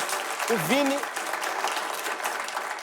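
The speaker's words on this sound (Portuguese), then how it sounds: "Palmas pro Vini, de verdade, gente." A crowd claps steadily and loudly throughout, a dense wash of applause with a brief voice cutting through near the start.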